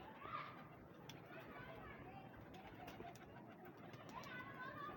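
Pigeons coo at a breeder's loft, soft repeated calls mixed into a busy background of children's voices and other chatter, with someone talking nearby.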